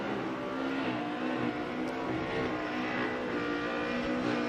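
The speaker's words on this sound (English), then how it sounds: "There's Adam LZ leaving in his AutoZone Mustang RTR Spec 5" Ford Mustang RTR Spec 5 drift car pulling away at Irwindale during Formula Drift competition, a steady engine drone with faint tire noise heard from a distance over crowd and track ambience.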